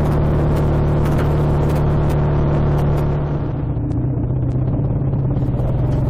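A BSA A65 motorcycle rides along a wooded country road, its engine a steady, loud, close rumble with constant wind noise and a slight drop in revs partway through.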